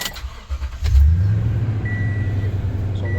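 A truck engine cranks and catches, then settles into a strong, steady rumble with a slight rev, close and loud, with no talking.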